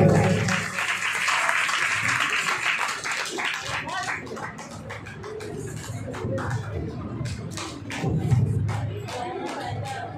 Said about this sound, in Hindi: अब की जोरदार तालियों में हम इनवाइट करते हैं